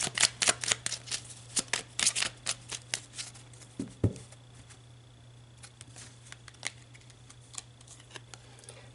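Oracle cards are riffled and shuffled in a rapid burst of papery flicks and snaps, followed by a soft thump as a card is drawn. Then quiet rustling trails off, close and fairly faint, with no talking.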